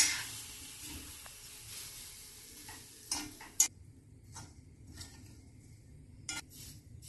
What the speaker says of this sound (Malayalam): ഇതിന് കുറച്ച് സമയം ഇളക്കി വറുത്തെടുക്കാം.